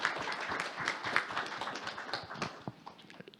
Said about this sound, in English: Applause to Mr. Professor Kim.